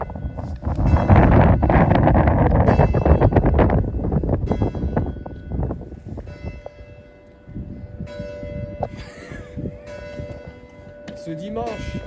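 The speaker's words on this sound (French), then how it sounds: "regardez ça, même la cloche elle est contente avec." A church bell rings out at an outdoor rally event, its tolling mixed with wind and crowd noise and partly buried under close, busy sounds early on before thinning out.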